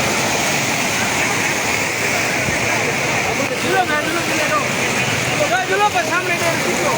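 Flood water rushes through a village in Pakistan, a steady broadband roar with surging swells that stays loud throughout, while voices talk faintly over it.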